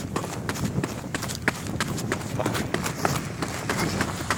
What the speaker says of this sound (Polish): Można biec sobie kawałek, tu się przebiegniemy.